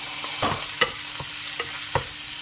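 Garlic frying in olive oil in a pan, a steady close sizzle with a few light stirring clicks and scrapes breaking through at intervals, no voices.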